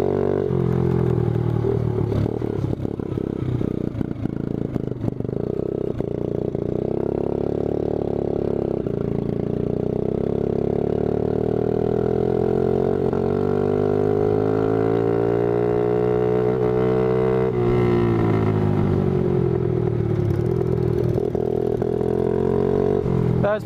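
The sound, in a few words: Yamaha 80cc four-wheeler and go-kart engines racing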